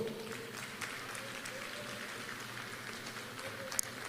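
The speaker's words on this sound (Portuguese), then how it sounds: "Você pode aplaudir o Senhor?" A church congregation claps along after the pastor's call during a sermon, a steady, moderately faint wash of applause with a faint voice murmuring beneath it and a sharp spike near the end.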